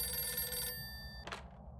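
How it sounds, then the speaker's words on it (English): Telephone rings in the 2010 PC detective game Alter Ego, a bright electronic bell tone sounding steadily for most of the moment, then cutting off, followed by a brief click-like burst over low background hum. "let's answer the phone"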